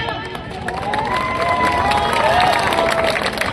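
A crowd at a Gujarati film song event in Tilakwada claps and cheers to welcome Arunbhai, a steady wash of applause and shouting that holds at an even, fairly loud level with some voices rising over it.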